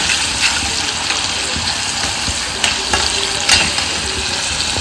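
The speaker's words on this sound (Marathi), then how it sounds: "आता हे मस्त असं परतून घ्यायचं आपल्याला" Boiled tomato sautés in a pan for baingan bharta, a steady close sizzle with occasional scraping stirs and small pops throughout, no voices.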